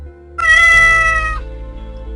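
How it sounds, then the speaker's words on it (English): A large grey cat gives a single clear, drawn-out meow, loud and close, trailing off into a softer tail against a steady low background hum. "she saw a large grey cat in the basket"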